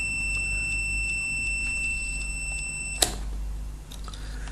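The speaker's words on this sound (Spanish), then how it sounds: "Si miramos en la escala de pitido" Multimeter set to continuity mode beeping while a relay's contacts are tested, a steady high electronic tone repeating in short even pulses for about three seconds, then a sharp click and quiet hum.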